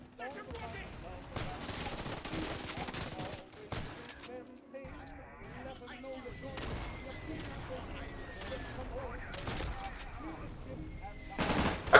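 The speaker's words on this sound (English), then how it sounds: "Here is some extra footage of the shotgun I've been using in the match as the British forces." Shotgun fire in the World War II game Day of Infamy, British forces: sharp repeated blasts mixed with distant rattling gunfire and battlefield noise, with a voice talking over it and a loud burst near the end.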